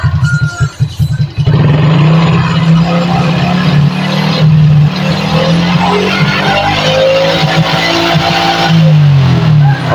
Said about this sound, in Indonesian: Nah ini sekarang coba saya gas mas motor ini.